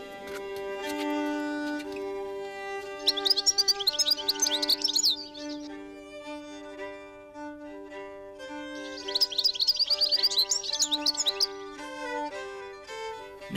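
A goldfinch sings bright, rapid twittering chirps in two clear bursts, close to the microphone, over a steady bed of sustained background music.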